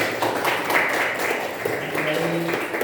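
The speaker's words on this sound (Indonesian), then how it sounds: "tepuk tangan untuk kelompok 2" Classroom applause for a student work group: a steady wash of clapping from many hands over the whole stretch, with faint voices mixed in.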